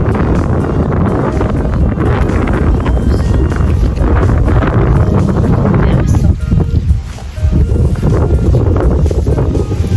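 Strong wind buffets the microphone outdoors while someone walks to a shop for noodles, a loud, steady roar with gusting rumble throughout and a brief lull near the end.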